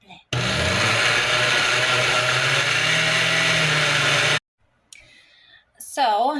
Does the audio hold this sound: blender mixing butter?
yes